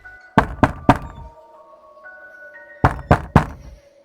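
Knocking from inside a wardrobe, used as a horror story sound effect: two close, loud bursts of three sharp knocks each, separated by a quiet pause with a faint tonal hum underneath.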